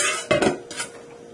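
A utensil stirs beet marinade in a bowl, giving a few quick, close clinks and scrapes against the bowl over a second or so.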